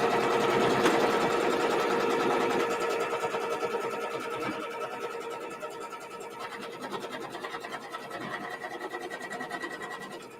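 Embroidery machine stitching the final outline shape around a quilt block: a steady, loud whirring hum of rapid needle strokes, easing slightly in level toward the end and running alone without talk.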